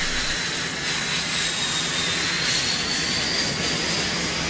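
A military jet aircraft roars steadily overhead, a loud continuous broadband engine rumble with a whining tone, heard alone with no voices.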